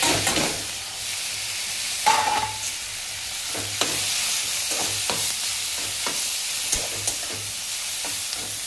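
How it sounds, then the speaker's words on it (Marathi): Ginger garlic paste frying with chopped capsicum in a hot pan, a steady broadband sizzle with repeated scraping stirs and brief clatters of a utensil, close and continuous without any talk. "आलं लसूण पेस्ट टाकून घ्यायचं"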